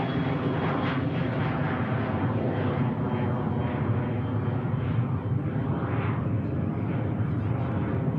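A 19-year-old NetJets UK Cessna Citation XLS business jet takes off from Manchester Airport, its engines giving a loud, continuous broadband roar that holds steady across the whole stretch.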